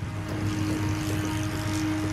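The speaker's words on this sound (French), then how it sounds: "faire atterrir l'avion en toute sécurité" Propeller airplane droning steadily as it comes in to land at London Stansted airport, a continuous engine hum with a fixed low tone, fairly loud and unbroken, with no voices.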